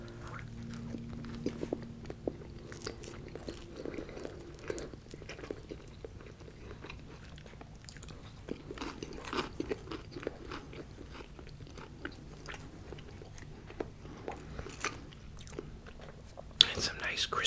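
Crispy bacon being chewed close to the mic in a quiet, whispered eating session, a steady run of soft crunches and bites throughout with faint whispering underneath.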